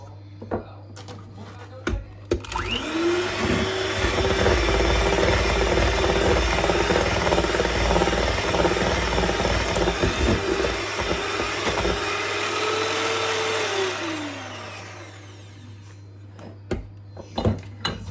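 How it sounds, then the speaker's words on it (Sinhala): An electric beater whirs through coconut cake batter, switching on with a rising whine and running steadily for about twelve seconds before winding down, with clinks of the bowl before and after. "නමුත් මම තව තප්පර ගානක් වගේ බීට් එක දාගන්නවා"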